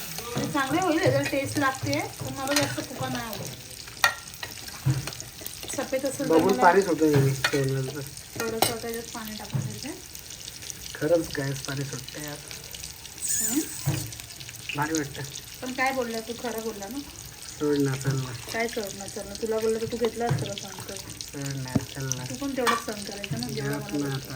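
Fish curry masala fries and is stirred in a pan, a soft sizzle and scraping running steadily beneath almost continuous conversation.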